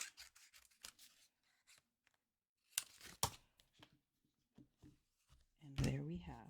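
Scissors trim coloured cardstock at a craft table, with short snipping and rustling cuts in quick bursts, faint and close, alongside someone talking quietly.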